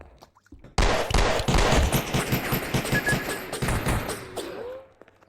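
Rapid video game gunfire: a sustained automatic burst of loud, evenly spaced shots lasting several seconds, starting abruptly after a brief quiet and tapering off at the end.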